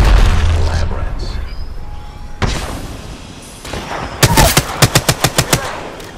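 Machine gun fire in Apex Legends: after quieter game ambience and a single loud crack, a close, evenly spaced string of rapid shots rattles out, each round punchy and distinct.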